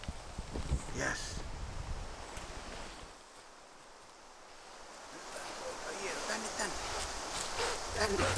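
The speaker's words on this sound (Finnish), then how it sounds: "Haasteellinen oli tuuli tänään" Wind buffets and rumbles across the microphone during a pigeon hunt in Ruovesi, Finland, easing to a lull midway before gusting up again with a rushing hiss.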